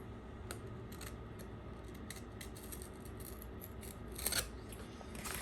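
A freshly sharpened knife edge slices through a standard sheet of paper, giving a steady, close scratchy rasp with a few sharper bursts of tearing fibre near the end.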